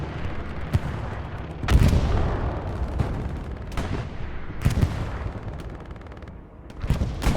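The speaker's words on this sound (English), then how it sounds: "Getting hit by artillery." Artillery fire hitting in a World War II tournament battle game, a series of heavy booming impacts and sharp gunshot-like cracks spaced irregularly over continuous rumbling battlefield noise, with no talking.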